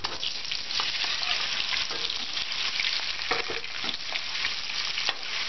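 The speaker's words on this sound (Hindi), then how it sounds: "आलू को थोड़ा सा भून लेंगे एक मिनट तक तेज आंच के ऊपर" Boiled, chopped potatoes frying in hot oil with cumin and whole coriander over high flame in a potato fry sabzi, a steady dense sizzle and crackle with occasional stirring scrapes, close and continuous throughout.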